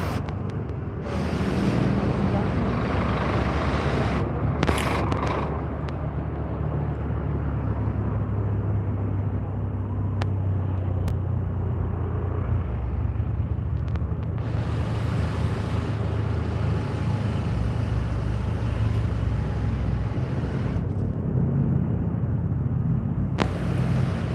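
Congested road traffic on the Makassar–Maros route gives a constant low engine drone with passing vehicles and some wind noise, steady and moderately loud for the whole stretch.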